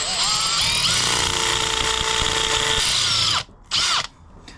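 Loud, steady whine of a power drill grinding into concrete for several seconds, a bigger bit following a smaller pilot hole for a bike ground anchor, then it cuts off, briefly revs again, and stops.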